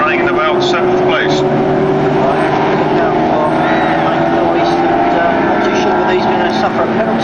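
Alfa Romeo race cars of the 1997 Dutch Trofeo at Brands Hatch roar down toward Westfield corner in a loud, sustained pack drone of engines, with a commentator talking over it.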